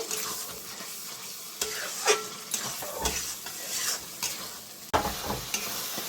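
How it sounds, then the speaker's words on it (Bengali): Spice masala fries in oil for a chicken kosha curry, with a continuous sizzle broken by repeated scraping stirs and a few sharp utensil knocks against the pot, close and fairly loud. "এবার আমি খুব সুন্দর করে মশলাটা কষাই নেব।"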